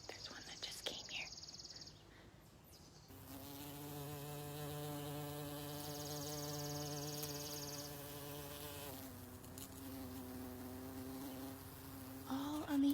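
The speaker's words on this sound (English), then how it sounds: "this bee is going to fly to another flower" A bee buzzes around a flower in a backyard, its steady droning hum rising and holding for several seconds up close, then fading as it moves off, with faint background rustle.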